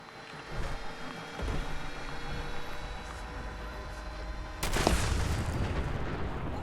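An explosion in the Fallout 76 video game: a sudden loud boom bursts in after a stretch of low mechanical hum and scattered thumps, then rumbles on as a broad roar.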